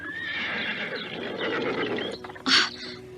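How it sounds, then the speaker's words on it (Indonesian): A horse neighs in a long, wavering whinny that rises and trails off, loud and close, followed by a short sharp burst of noise near the end; no speech is heard. "Dengar suara ringkikan kuda."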